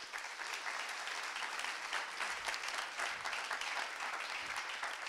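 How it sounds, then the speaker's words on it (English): Warm round of applause from an audience at a tech talk event on 6G, dense continuous clapping that stays even and fairly close for several seconds. "A warm round of applause."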